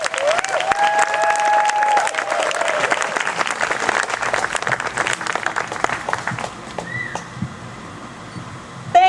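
An audience applauds to welcome a speaker at a community walk kickoff on a college campus. The clapping is dense and sustained for several seconds, then thins out and fades toward the end.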